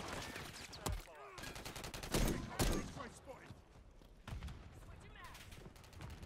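Magnum gunshots ring out in the video game Modern Warfare III, a series of loud sharp bangs with rapid bursts of other gunfire in between, heard under a player talking.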